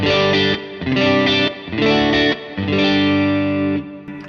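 An electric guitar plays a few ringing chords in a clean tone through an RJM Music Overture overdrive pedal, each sustained briefly before the next one is struck.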